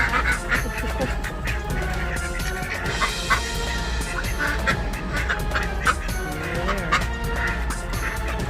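Farm ducks and geese make a dense, continuous chorus of honks and quacks, loud and close, with many birds calling over one another without pause.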